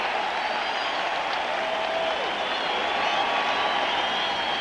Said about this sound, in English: Crowd at the Kingdom with that touchdown back in the ballgame.